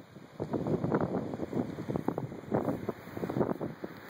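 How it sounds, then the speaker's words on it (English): Gusty outdoor wind buffets the microphone in uneven rushing bursts, moderately loud and close, with short lulls between gusts. "It's a little windy."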